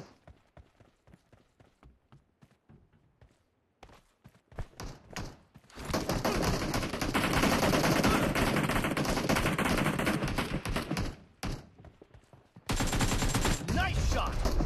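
AKM assault rifle fire in PUBG Mobile: scattered single shots and short bursts give way to two long, dense stretches of sustained automatic gunfire, loud and close.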